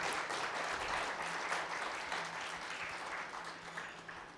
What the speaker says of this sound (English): So can we give a big round of applause for all the ladies who are looking so gorgeous today